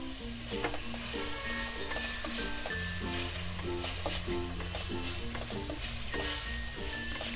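Chopped onion fries in a pan for chicken chowmein, giving a steady close sizzle and crackle, with a rhythmic tonal backing running throughout and no voices.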